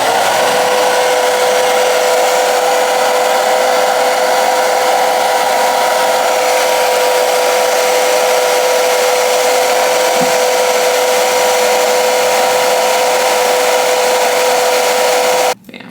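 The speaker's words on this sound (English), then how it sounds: "now I'm blow drying the wig" A hair dryer blows on a honey blonde 24-inch 13x4 lace frontal wig, a loud, close, continuous whooshing hum held steady for the whole stretch before cutting off abruptly at the end.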